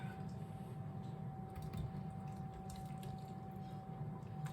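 Alfredo sauce is poured from a pan into a baking dish for a tortellini bake, a soft continuous liquid trickle and drip, fairly faint and close with a steady low hum behind it.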